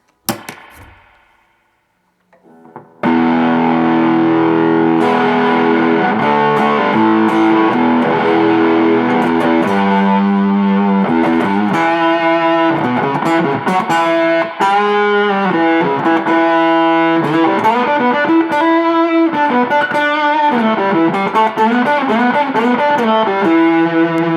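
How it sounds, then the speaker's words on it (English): Electric guitar through a Prescription Electronics Yardbox fuzz pedal, bright and ripping, plays a continuous riff of loud, saturated chords and notes after a short quiet start. "it's got that kind of bright, ripping sound that a Tonebender is famous for"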